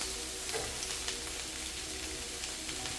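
Peppers fry in hot oil in a home kitchen in Ghana, a continuous soft sizzle with scattered crackles and faint utensil taps, fairly quiet and without speech.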